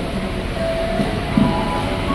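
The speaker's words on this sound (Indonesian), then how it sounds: "Kita lihat dulu nih KRL RRC berangkat." An electric KRL commuter train departs Tebet station, rumbling steadily nearby, a low continuous rolling drone with faint squeals, no voices.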